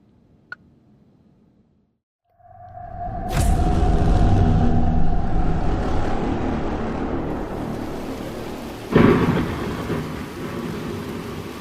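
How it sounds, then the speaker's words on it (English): Thunderstorm with rain in a VR horror game: after near silence, a sharp thunder crack opens a heavy rumble and steady downpour, with a second loud crack later, no talk. "On stormy nights like these"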